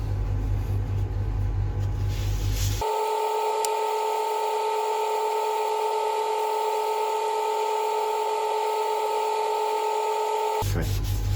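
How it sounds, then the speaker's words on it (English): A wood lathe spins a turning while Yorkshire grit abrasive is pressed against it, a steady motor whine with a soft rubbing hiss over it, preceded and followed by brief rougher workshop noise. "we're going to go on with a bit of Yorkshire grit, just to smooth out the surface before we put the final finish on"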